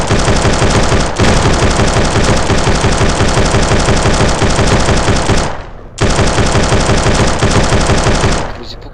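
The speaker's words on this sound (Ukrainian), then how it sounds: "Візьмемо автомат наш і просто будемо стріляти." Sustained automatic assault rifle fire in the sandbox video game BloodBox, loud and continuous with a brief pause before a second long burst, aimed at a car.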